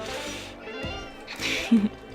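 A cat meows briefly, close and fairly loud, with a short caterwauling rise near the end of the clip against quiet background hum.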